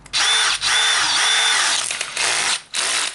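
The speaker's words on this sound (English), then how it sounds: "I generally will run the drill with the clutch on a" A power drill runs in short loud bursts as it bores into a soft aluminium primary case on a 1969 Triumph Daytona T100R, a high whirring whine that stops and restarts several times, heard close up.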